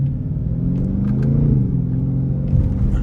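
Dodge Scat Pack 392 Widebody idling with a loud, steady low exhaust rumble, a few faint crackling pops breaking through near the end.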